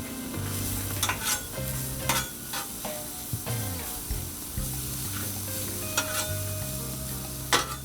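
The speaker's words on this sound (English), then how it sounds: "So we put our onions down, spread them out a little bit here." Onions sizzling on a hot Blackstone 22-inch griddle, a steady frying hiss punctuated by repeated scraping clicks of a spatula stirring and spreading them, close and clear with no voices.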